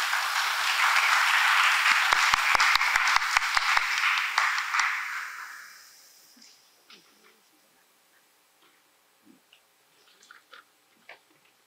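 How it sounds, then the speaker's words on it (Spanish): Applause from an audience at a lecture on folklore and anthropology in Peru, dense clapping with a few sharp nearby claps that fades out after about six seconds, leaving quiet room noise. "Fuertes los aplausos, por favor."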